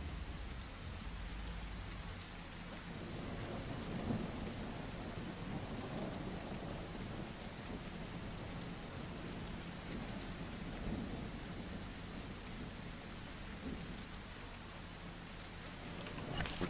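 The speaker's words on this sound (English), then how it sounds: "it might just be the storm" In the video game The Isle, a thunderstorm pours steady rain, with low rolling thunder rumbling underneath. The storm stays continuous and fairly quiet, with no voices.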